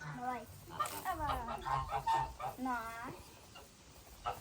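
Geese and fowl honk and cackle close by in short bursts, with people talking over the birds.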